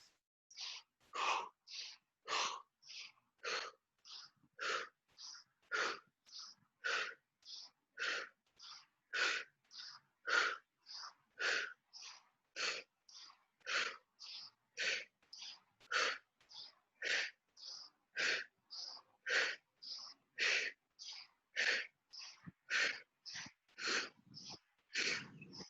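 Steady rhythmic breathing during seated yoga twists at an outdoor park session, dozens of short, even breaths in a regular pattern, fairly close and clear with no talking.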